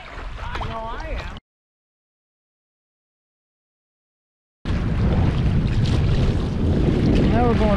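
Wind gusting over open water while sea kayaking near Cornet Bay and Hope Island, a loud rushing buffet on the microphone with people talking, interrupted by a few seconds of total silence.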